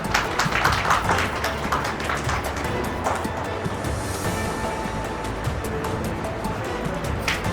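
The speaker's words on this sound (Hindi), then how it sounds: "जोरदार तालियां हो जाए दोस्तों" Crowd applause at a Holi celebration gathering marking two years of a Lucknow power-complaint media outlet, a dense, steady clapping that runs throughout at moderate loudness.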